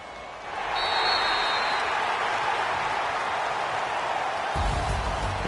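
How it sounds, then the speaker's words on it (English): A home crowd in a PS4 sports video game breaks into applause, a dense, even wash of clapping that swells in after a brief pause and holds steady, with a low thump near the end. "the home crowd applauding"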